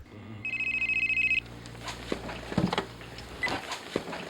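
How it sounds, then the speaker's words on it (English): A telephone in a Seinfeld scene rings in a rapid, bright electronic trill that lasts about a second, then stops, leaving faint room noise and a few light knocks and clicks. "Kramer gets another call"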